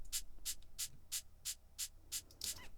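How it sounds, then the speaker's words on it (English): A shaker in a beat mix, nine crisp, evenly spaced hissing strokes in a steady rhythm, close and fairly soft, with nothing else around it. "The first thing is the shaker. So it's just this sound right here."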